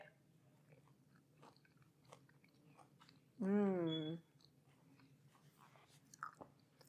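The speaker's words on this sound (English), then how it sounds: "Time to take a bite." Someone bites into and chews a Santorini tomato fritter, giving soft, close, quiet crunching and mouth sounds. Partway through, a short voiced hum of enjoyment rises above the chewing.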